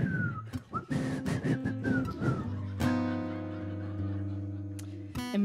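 Whistling during an intimate in-the-round live music performance: a few short wavering whistled phrases, then held notes over sustained guitar-like chords, close and clear.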